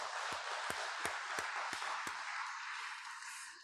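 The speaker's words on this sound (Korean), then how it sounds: "우리 다 같이 하나님 앞에 영광의 박수로 영광을 돌려드리십시다." A church congregation claps during a Sunday worship service. Steady group applause carries a run of sharp, evenly spaced rhythmic claps, then fades slightly toward the end.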